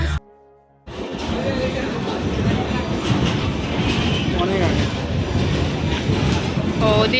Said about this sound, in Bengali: আরো একটা ট্রেন